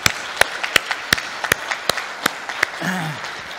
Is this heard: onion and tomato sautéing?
no